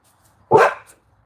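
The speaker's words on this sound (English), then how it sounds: "Somebody over there with a dog?" A dog gives a single short bark close by, loud against near silence outdoors in a garden.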